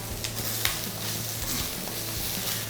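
Ginger, garlic and grated coconut sautéing in a pan give a steady sizzle with a few sharp stirring scrapes, close and even, with no voices.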